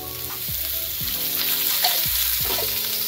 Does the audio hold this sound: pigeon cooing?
no